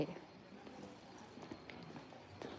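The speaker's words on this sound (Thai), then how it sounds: "เสียงคนเดิน" Footsteps of people walking through a busy terminal at Finland's airport, a steady patter of soft steps mixed into crowd murmur and background chatter, fairly close and continuous.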